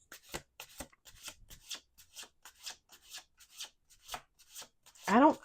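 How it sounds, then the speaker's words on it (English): Tarot cards are shuffled by hand in a quiet room, a series of soft rhythmic rubbing and riffling strokes ending in a louder quick riffle, with a voice briefly speaking. "2 more shuffles."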